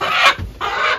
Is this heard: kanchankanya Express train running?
no